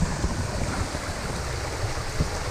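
Steady broadband rushing of a flowing river, continuous and fairly close, with a few soft low thumps and no voices.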